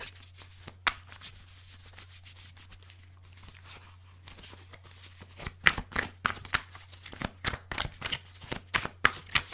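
Tarot cards are shuffled, quiet rustling at first, then a rapid series of crisp riffling slaps close by over a low steady hum.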